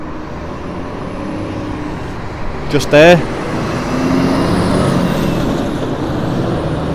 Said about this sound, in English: There's a lot of lorries going past